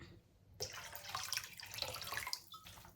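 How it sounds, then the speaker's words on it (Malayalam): Vinegar splashes into a bowl of salted water, set for soaking duck, after a quiet moment, giving a close, bubbling liquid pour with small drips that trails off near the end. "സോൾട്ടിൻ്റെ കൂടെ തന്നെ കുറച്ച് വെനിഗറും കൂടെ ഒഴിച്ചു കൊടുക്കാം"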